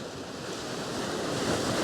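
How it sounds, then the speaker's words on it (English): Steady roar of ocean surf breaking nearby, a continuous wash of waves with some wind noise, no voices. "I can hear the waves over there."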